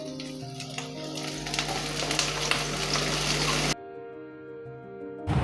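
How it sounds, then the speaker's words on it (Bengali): Chopped onion dropped into hot oil with whole cumin in a kadai, a loud dense sizzle that stops suddenly. Quieter low kitchen hum follows, then a brief renewed hiss at the end. "পেঁয়াজ কুচো দিয়ে দিলাম"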